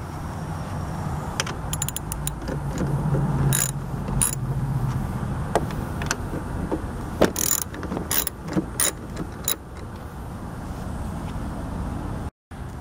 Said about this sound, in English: I recommend using a ratchet with an extension on it.